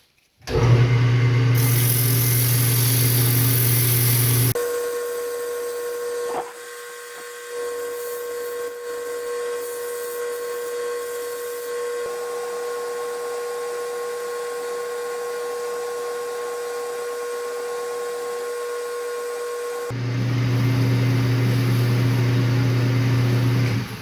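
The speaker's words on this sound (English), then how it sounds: "I'm just going to sand it. You're going to start off with some 80 grit." A wood lathe spins a turned wooden piece for a lazy Susan display while it is sanded with 80-grit sandpaper, a loud whirring hum with a steady whine, dropping to a softer drone through the middle before rising again.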